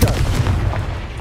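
A Confringo explosion spell bursts in a Harry Potter video game, a loud, booming blast that fades quickly in a low rumble.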